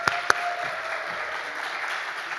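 A church congregation applauds in thanks for its pastor during a mothers' prayer meeting, a steady wash of clapping with a couple of sharper claps standing out early, moderately loud throughout.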